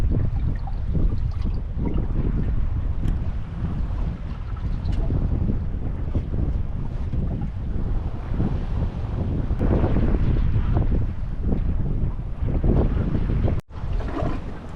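Sailboat under way through the La Paz channel, with loud gusting wind buffeting the microphone and a low rumble of hull and water, steady and close, ending in a brief sharp dropout.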